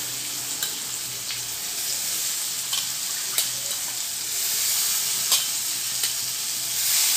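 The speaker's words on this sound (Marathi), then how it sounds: "आता मी ह्याच्यामध्ये एक बटाटा घालते, वांगं. आपल्याला तेलामध्येच छान शिजून घ्यायचं आहे" Potato, brinjal and field beans frying in hot oil in a pan, a steady bright sizzle with scattered crackles and occasional stirring clicks, close and loud throughout, no voices.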